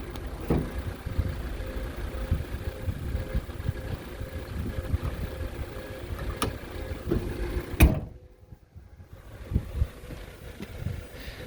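A 2018 Subaru Crosstrek 2.0 premium all-wheel drive idles smoothly, a steady low engine rumble heard up close, broken near the end by a brief thump as the hood is closed.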